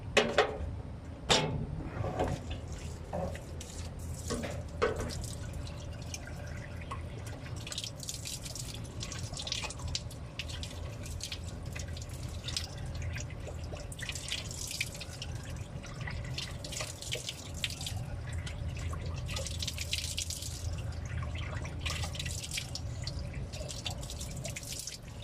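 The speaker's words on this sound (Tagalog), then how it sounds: "Dagdagan mo lang ng tubig." Water poured into a water pump to prime it, a steady splashing and trickling stream with drips, close and continuous for the whole stretch, with faint mechanical sounds.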